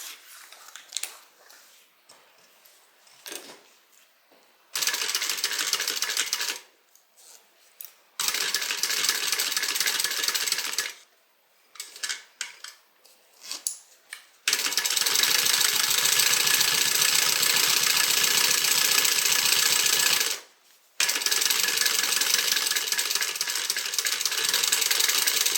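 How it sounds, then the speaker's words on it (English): A sewing machine top-stitches along a zipper edge, running in loud sustained bursts separated by short pauses, with one long continuous run near the end. "we're going to top stitch right along the edge of the zipper"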